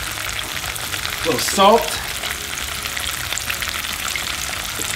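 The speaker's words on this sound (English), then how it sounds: "the reason that we are frying these is because we're looking to add some texture, some heat, some crispiness to the ceviche" Potatoes fry in hot oil for a togarashi ceviche, giving a steady broadband sizzle with a brief louder crackling burst partway through, under a short spoken remark.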